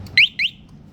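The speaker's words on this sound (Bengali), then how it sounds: "হুম সাইরেন" A motorcycle security lock alarm lets out two quick, sharp electronic chirps, each sweeping slightly upward, loud and close against a quiet background.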